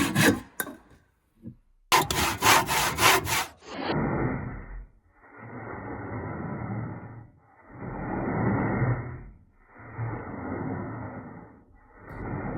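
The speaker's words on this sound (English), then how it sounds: "I'm just going to cut these with a handsaw because they're not that big" Handsaw cutting through small wooden boards, a steady back-and-forth rasping in several long bursts with short pauses between, close and fairly loud, preceded by a few brief knocks and a louder scrape.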